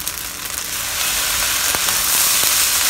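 Chicken and salted fish fried rice with soy sauce is stir-fried in a hot wok, a loud, continuous hiss and sizzle that swells midway, broken by a few sharp scraping clicks of the spatula.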